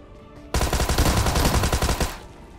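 Rapid automatic gunfire from a mobile battle royale game, a loud rattling burst of about a dozen closely spaced shots lasting around a second and a half, then cutting off.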